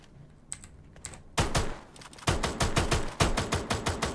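Gunfire in the video game Free Fire: a few scattered shots, then loud rapid bursts of automatic fire cracking in quick succession, close and sharp.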